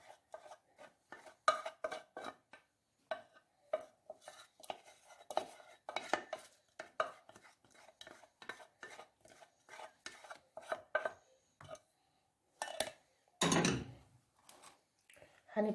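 Chocolate mixture for a chocolate biscuit cake being spread and worked over biscuits with a utensil, giving a run of short scraping and clicking strokes, close and fairly quiet, broken by brief pauses and one louder rustling knock near the end.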